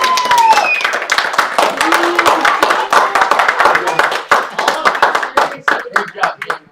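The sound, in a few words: audience applause for the actresses and actors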